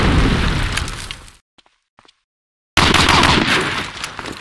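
Grenade explosions in a Medal of Honor Allied Assault multiplayer match: loud, roaring broadband blasts, then a sudden near-silent gap with faint ticks, then another heavy burst that slowly decays.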